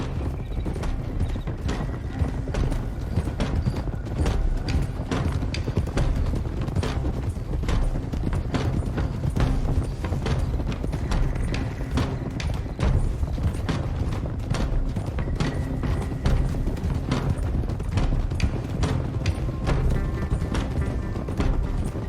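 Several horses galloping in Red Dead Redemption 2, a dense, continuous clatter of hooves with creaking tack, loud and close throughout, with faint speech now and then.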